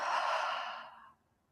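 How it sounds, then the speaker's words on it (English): A single deep exhale through an open mouth during a yoga breathing exercise, a breathy rush that starts strong, then tapers and fades to quiet after about a second. "Altogether, deep breath in through the nose. Open mouth, exhale."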